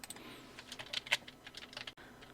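Computer keyboard typing text into Photoshop: a short, fairly faint run of irregular key clicks and taps, heard alone.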